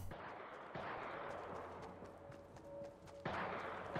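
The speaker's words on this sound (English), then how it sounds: "I do hear somebody trying to shoot me." Gunfire in a Fortnite-style video game match: a few sharp, loud shot bursts at the start, about a second in and near the end, with a steady hum of game ambience between them.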